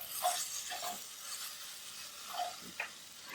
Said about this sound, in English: Fry the okra for about 5 to 7 minutes until you start to see a nice browning and